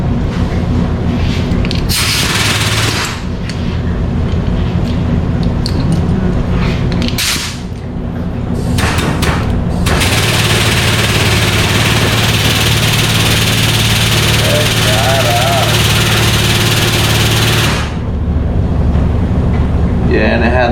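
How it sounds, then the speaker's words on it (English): Air over hydraulic jack ram being tested in a shop, a loud steady pneumatic hiss and motor drone running most of the time with brief pauses, broken bursts of air release near the start. "it looks like a air over hydraulic Ram"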